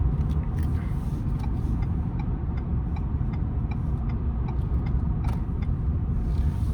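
Ford F-150 pickup towing a gooseneck trailer at interstate speed, with steady broadband road and engine rumble holding constant throughout, plus faint light ticking from the cab.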